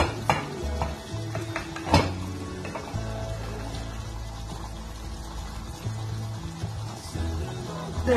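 Cashew nuts and poppy seeds fry and get stirred in a pan, a soft continuous sizzle broken by scraping spoon strokes and occasional metallic clinks against the pan, with no talking.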